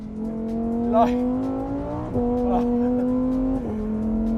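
A Lamborghini Huracán Sterrato engine revs loudly and close up, a steady rasping drone that climbs in pitch, with two abrupt gear-shift drops partway through.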